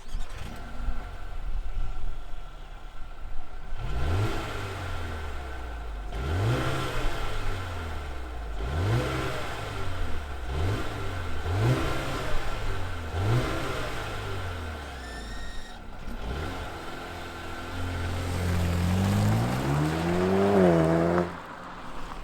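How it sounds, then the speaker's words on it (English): A 2021 Mercedes-AMG GLA 35 compact SUV engine starts, then revs repeatedly in a steady rising-and-falling pattern, ending with a longer, climbing rev; close and fairly loud. "let's fire up this engine and hear what it sounds like"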